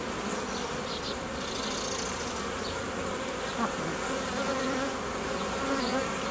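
Honeybees buzzing steadily around hive frames during a spring hive inspection while merging colonies from a nucleus, a dense continuous drone close by with no talking.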